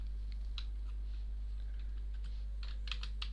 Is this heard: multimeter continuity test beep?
no